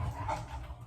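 Dogs playing in a home kitchen, a quick yip and brief bark-like sounds at moderate distance over low background hum, under a second long with no talking.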